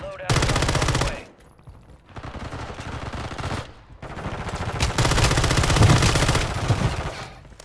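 Automatic gunfire in a shooter video game rattles in long rapid bursts separated by brief pauses, loud and close.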